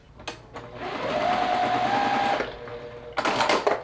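A sewing machine runs a steady seam of about two seconds while stitching quilt block fabric pieces, with brief clicks and handling noises before it and a louder rustle after it stops.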